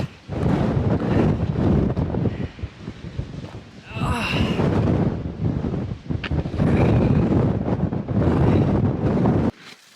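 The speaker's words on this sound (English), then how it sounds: "It's cold and windy, way too exposed up here." Strong, gusty wind roars and buffets the microphone almost continuously on an exposed, cold Appalachian mountain summit, with brief lulls between heavy blasts.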